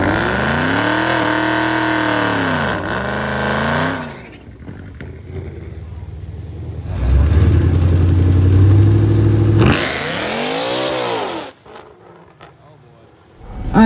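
A Whipple-supercharged 2018 Mustang at a dragstrip revs hard in loud rising and falling sweeps, then drops to a lumpy idle before revving again, with supercharger whine over the exhaust.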